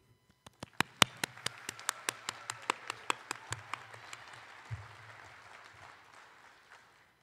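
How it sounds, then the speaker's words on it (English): A crowd at a 2021 high school graduation ceremony applauds, starting with sparse distinct claps that quickly build into a dense burst of clapping, then gradually thin and fade away. "I would like to give a round of applause to the class of 2021"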